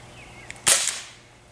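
One sharp, snappy gunshot fired at cans outdoors, a close crack with a brief ringing tail, preceded by a faint click.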